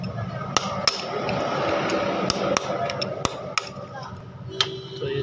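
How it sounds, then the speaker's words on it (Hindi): A hammer striking a chisel to loosen a clutch bolt on a Hero Splendor Plus motorcycle, with about eight sharp metallic taps at irregular intervals over a steady background hum, close and clear. "इसको भी छेनी हथौड़ी से खोल लेंगे, मार के हल्का हल्का हमें छेनी हथौड़ी से मारना है"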